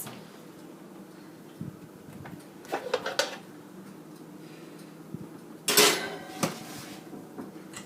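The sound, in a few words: cookie sheet of batter put into oven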